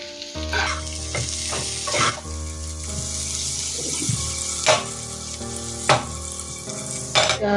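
Spices being mixed into potatoes frying for aloo fry, a loud, constant sizzle with repeated scraping and clacking stir strokes over a steady background hum; no talk.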